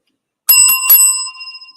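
A bicycle-style bell rings three quick times, bright and close, then its metallic tone lingers and fades.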